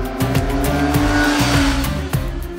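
Indian Scout Bobber motorcycle with a V-twin engine accelerating hard through the gears, a loud, close engine note that rises in pitch and drops sharply at each gear change, with no voices over it.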